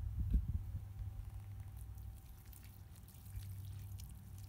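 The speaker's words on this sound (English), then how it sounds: "grab your watering can and give it a nice soak" A watering can soaking a freshly planted seedling in soil, a low, steady pour that runs on without a break at a fairly quiet level.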